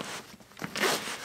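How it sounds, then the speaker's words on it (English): Zipper on an emergency medical bag is pulled open in two rasping strokes, close and moderately loud, with no talking over it. "unzip this"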